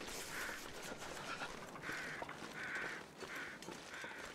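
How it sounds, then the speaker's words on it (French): Crow cawing in The Long Dark survival game, several rough caws spaced through the clip, moderately distant over a steady windy ambient bed. "Corbeau là-bas."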